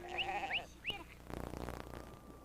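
Sheep and goats of local breeds call at a high-altitude pasture in Ladakh, with a few wavering bleats at moderate distance followed by a low, rough rumble.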